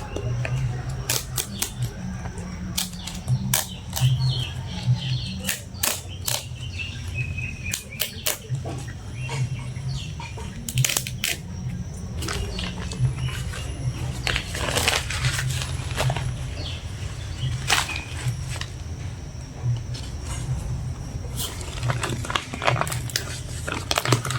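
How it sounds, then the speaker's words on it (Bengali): Scissors or a blade cut open a plastic sack attached to a garden pot, making a run of sharp crinkling snips and rustles close up over a low background hum. "প্রথমে এটা ভালো করে কেটে নেব, বস্তাটা যেটা আছে লাগানো।"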